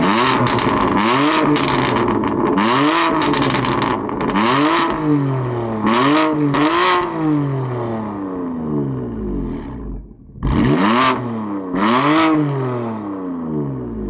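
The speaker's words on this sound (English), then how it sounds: "The exhaust is all stock and it sounds amazing." A BMW engine with stock exhaust revs hard again and again, its exhaust roaring up and dropping back in repeated bursts, loud and close, with a brief lull near the end.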